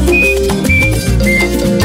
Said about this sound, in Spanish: Chifla de Michunga.